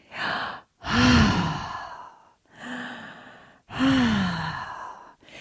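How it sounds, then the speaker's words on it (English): Loud, deliberate breaths up close, four long exhales and inhales in a steady rhythm with short pauses between, no talking. "I'm making my breath really audible for you to hear"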